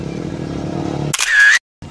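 A motorcycle engine hums at a steady idle nearby, then a sharp, loud burst cuts in and stops abruptly, leaving a moment of silence before the noise returns.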